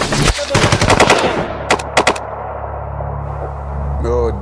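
Machine-gun fire rattles in rapid bursts during a war reenactment, several loud close volleys packed into the first two seconds, then a low rumbling hum with a faint tonal whine near the end.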